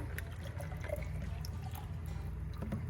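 Juice and then water pour steadily into a cup, a continuous close splashing trickle with a low rumble underneath, no voices.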